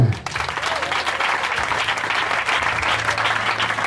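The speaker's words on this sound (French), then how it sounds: "Acclame Jésus" Church congregation applauding to acclaim Jesus during a Sunday service, a dense, steady wall of clapping from many hands that fills the room from start to finish, with a faint voice briefly under it.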